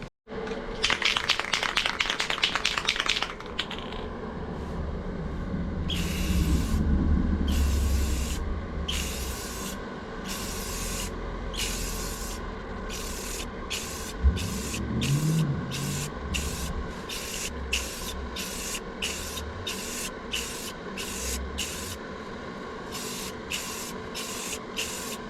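A last coat of spray paint goes onto a Nissan 350Z engine bay in a closed garage. Close, loud hissing bursts pulse in a steady rhythm of short sprays, with a few rustles and faint background noise.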